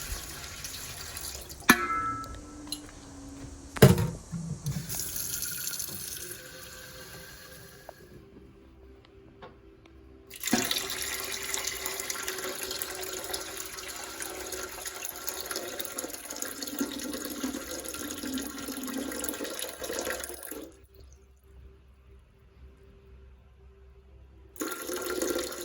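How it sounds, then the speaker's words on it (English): Three quarts of water run and splash steadily into a metal pressure canner, with a few knocks and clanks before the flow starts, then stops near the end. "let's get our 3 quarts of water put into"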